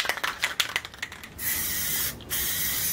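White gloss Rust-Oleum spray paint applied to a canvas: a few quick clicks and rattles of the can, then a long steady hiss of spraying, a short pause, and another burst of spray, close and loud.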